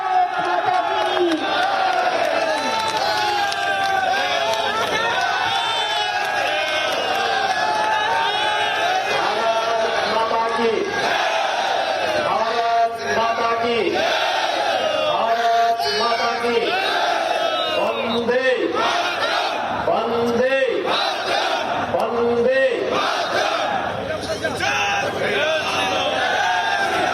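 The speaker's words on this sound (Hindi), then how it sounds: "आप सबकी जोरदार तालियों के साथ भारत माता की।" A large crowd at a village panchayat conference addressed by CM Yogi chants a patriotic slogan in loud unison, mixed with cheers and shouts, sustained and dense throughout.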